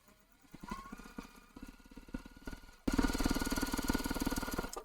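Juki TL-2010 sewing machine stitching a quarter-inch seam on quilt block pieces; a quiet, rapid mechanical pattering in short bursts, then a louder continuous run of stitching.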